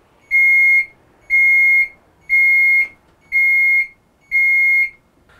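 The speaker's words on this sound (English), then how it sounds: "you could actually hear a tiny alarm in here" Tiny alarm on a Segway P65 electric scooter sounding with the turn signal: five evenly spaced, loud, steady electronic beeps, each about half a second long, with nothing else around them.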